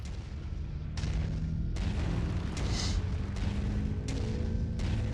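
Mech weapons firing in the video game MechWarrior 5, a series of heavy booming shots about every second over a constant low rumble, with one brighter burst in the middle and no voices.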